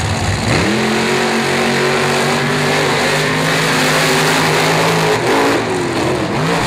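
Monster trucks racing down a drag track, engines roaring loud and sustained as they accelerate away, a thick rumbling drone with rising pitch and no talk over it.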